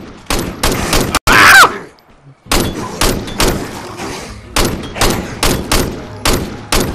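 Repeated loud gunshots at zombies in State of Decay, a rapid series of sharp blasts in bursts with brief pauses between them, close and dominant.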